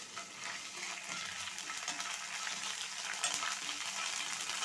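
Ginger-garlic paste fries in hot oil as tempering for Guntur-style gongura chutney, giving a steady, soft sizzle with light stirring throughout, alone without voices.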